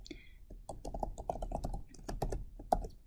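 Rapid clicking keystrokes on a computer keyboard, an irregular run of close, crisp taps over a few seconds with no talking.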